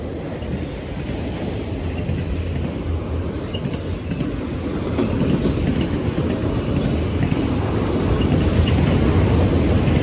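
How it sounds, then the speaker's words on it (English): CSX freight train rolling past a crossing on Bayview Road in Blasdell, New York, a steady heavy rumble with faint clatter that grows slightly louder over ten seconds, with wind noise. "Almost missed that train."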